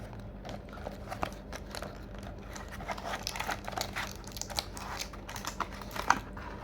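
Packaging on a Cool Water attar perfume is opened with soft, close crinkling and small tapping clicks, quiet and irregular, and one brighter crackle near the end, with no talk.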